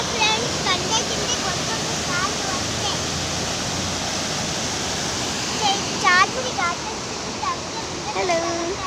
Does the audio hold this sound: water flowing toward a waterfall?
yes